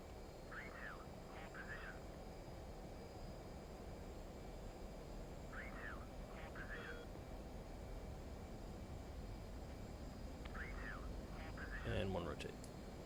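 Military jet of squadron VMFA-312 beginning its takeoff roll down the runway, a steady loud engine roar filling the cockpit throughout, with radio calls from the crew heard over it.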